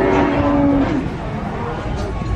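A water buffalo at a livestock market gives a short, low lowing call near the start, set against a busy background of voices and ambient noise.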